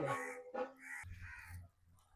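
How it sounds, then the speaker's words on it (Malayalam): Crows gathered outdoors near a buffalo-heart curry cooking in the open let out a few loud, close caws in the first second, then fade to quieter calls over faint background. "ഇത്രയും കാക്കകൾ അവിടെ നോക്കി നിന്നിട്ടും കറിയുടെ അടുത്തോട്ട് വന്നില്ല"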